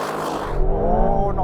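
An Aston Martin Vantage launches hard, its engine note climbing in pitch as it accelerates in a strong, loud roar, close by.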